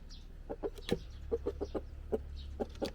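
Chickens cluck in short, scattered bursts close by, with a soft low rumble underneath.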